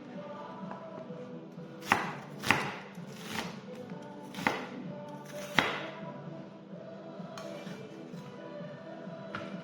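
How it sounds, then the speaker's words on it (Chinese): A kitchen knife slices food into pieces on a cutting board while ingredients are prepared for homemade Sichuan-style chili red oil. Several sharp, close chops fall irregularly over a steady low background hum. "然后把它破开，切成片就可以了。"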